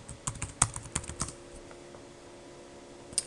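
Password being typed on a computer keyboard: a short burst of crisp, close key clicks in an uneven rhythm, then a pause and one final keystroke, with no voices.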